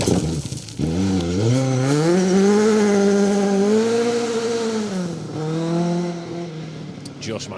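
A rally car on a forest stage of the Wyedean Rally, a round of the Welsh Rally Championship, pulls away with a loud, sustained engine note that climbs and falls through the gears, rear wheels fighting for grip.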